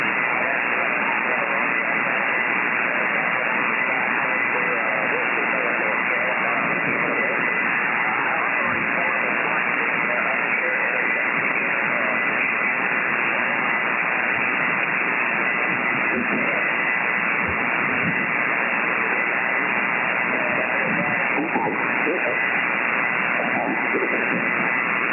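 Band-limited static and hiss from an amateur radio receiver tuned to the 40 meter band during a contest weekend. The hiss is steady and continuous, with a faint, garbled voice signal buried in the noise throughout.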